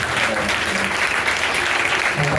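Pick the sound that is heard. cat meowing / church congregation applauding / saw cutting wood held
church congregation applauding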